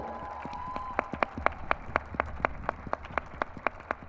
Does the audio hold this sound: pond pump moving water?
no